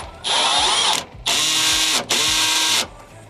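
Power tool tightening bolts on the engine guard mount of a Mercedes Sprinter, three loud whirring bursts of about a second each with brief pauses between, close by.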